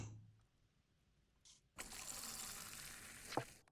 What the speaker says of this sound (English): That's a wonderfully poured pint.